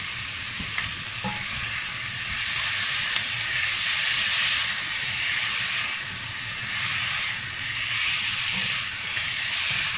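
Ingredients stir-fried in a hot pan for a duck tongue dish with pickled mustard greens, giving a steady loud sizzle and hiss that swells and eases as the food is tossed, with occasional scraping and no talking.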